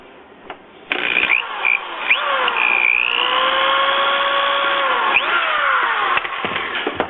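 Power drill whirring into the bottom of a plastic Stormtrooper helmet, a steady close whine held for several seconds with a slight falling pitch as the bit bites, ending in a few handling knocks.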